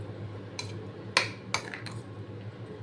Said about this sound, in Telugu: ఇప్పుడు టమాటా ముక్కలు అవి వేసినవి అన్నీ చక్కగా ఇలా కలిపేసుకుంటే